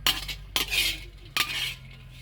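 A metal utensil scrapes and stirs galangal as it dry-roasts in a pan. Three distinct, close scraping strokes sound clearly with no talking.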